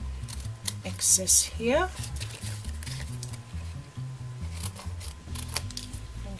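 Scissors snip excess paper off a scenic handmade card, making a few quick, crisp cuts close by while a person talks over them.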